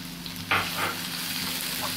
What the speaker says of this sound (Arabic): حطيت كده معلقه من السمنه. واول حاجه احط البصلايه بتاعتنا كده تاخد لها تشويحه